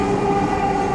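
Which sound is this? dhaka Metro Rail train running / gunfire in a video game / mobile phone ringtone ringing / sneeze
dhaka Metro Rail train running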